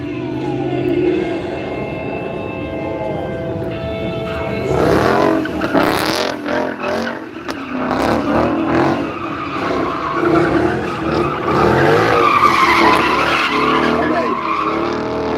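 Manual performance car at a British motor show, revved hard and launched with a clutch dump, giving a loud, sustained roar with tire squeal and crowd noise throughout.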